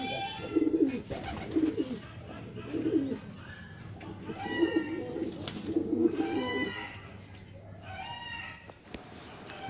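Pigeons for sale in Bareilly Sadar Cantt coo in soft repeated bursts, close by, with quiet ambient noise and occasional other bird calls.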